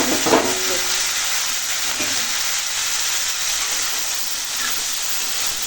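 Hand-mixed okra, coated in a mustard, poppy seed and green chili paste, drops into hot oil and sets off a loud, steady sizzle and hiss that holds close and continuous, with a few stirring clatters near the start.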